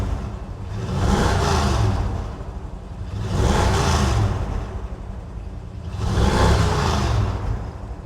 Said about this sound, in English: let's do a fire up video here. Firing it right up.